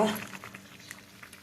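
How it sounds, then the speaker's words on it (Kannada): A pot of peas and paneer curry boils with soft, steady bubbling and popping, close by and fairly faint, with a brief voice-like sound at the very start. "ಬಟಾಣಿ ಕುದಿ ಬರ್ತಾ ಉಂಟು"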